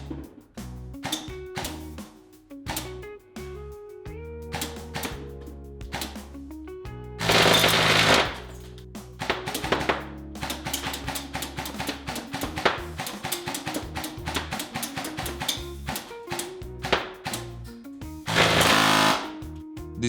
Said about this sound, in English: I will set these up at 5 meters and shoot them with a 1 joule rifle.